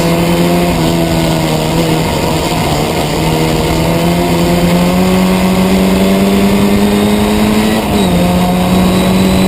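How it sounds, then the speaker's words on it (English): A historic Formula Ford race car at Croft circuit drones loudly and continuously close by, its engine pitch holding steady and rising slightly before a brief dip as it shifts, with no talk over it. "Another car, I think, going past Nuttall there."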